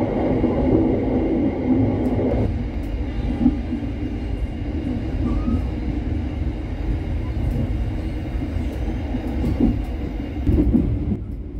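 Serayu economy-class passenger train pulling out of Kiara Condong station at night, a steady rumble and rolling rail noise heard from inside the carriage, continuous and moderately loud throughout.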